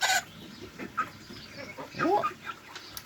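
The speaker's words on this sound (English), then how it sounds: "So yeah, that's a hen" A hen clucking close by in a backyard flock, a series of short throaty clucks and a rising squawk spaced irregularly over a few seconds, with faint background noise and no talk.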